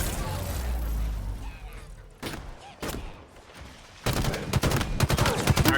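A plasma grenade detonating against a propaganda tower in Halo Infinite: a muffled rumble gives way to loud, rapid bursts of explosive cracks and gunfire-like pops crowding the last two seconds.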